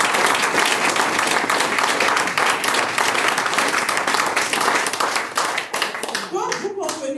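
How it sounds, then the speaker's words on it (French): An audience at a Forever Living Products Togo open-day event in August 2023 bursts into loud, dense applause that holds steady for several seconds, then thins out and gives way to a voice at the end. "Il faut applaudir."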